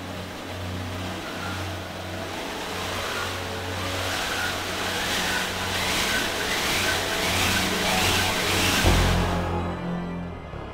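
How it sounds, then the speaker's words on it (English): A wind machine, a cranked barrel wrapped in canvas, plays in a Hollywood percussion setting. It makes a continuous broad whoosh with rhythmic surges from the turning barrel, holding a fairly steady level before cutting off near the end. "a wind machine aids in the crescendo. The sound is produced by cranking a barrel with a canvas around it"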